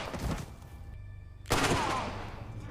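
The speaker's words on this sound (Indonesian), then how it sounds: "Stephen juga menembak Dave dan memaksanya mengatakan di mana tas berisi uang tersebut disembunyikan" A gunshot in a crime thriller film: a sharp, loud report bursts out right after a brief hush, over a murky soundtrack.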